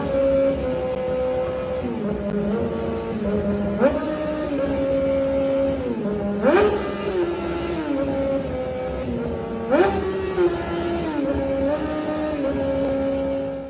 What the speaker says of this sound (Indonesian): suara mesin 4 silinder bisa menghasilkan suara yang merdu